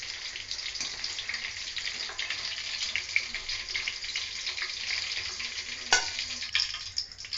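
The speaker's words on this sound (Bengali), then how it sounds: "সেগুলো আমি ভালো করে ভেজে নেব" Pointed gourd pieces frying in hot mustard oil, a continuous close hiss and sizzle with light stirring clatter and a brief sharper scrape near the end.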